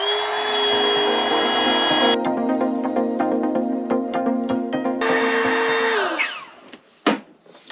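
Flextail electric air pump running at steady high whine while inflating a green tube, loud and continuous, its pitch shifting midway before the motor winds down and stops near the end.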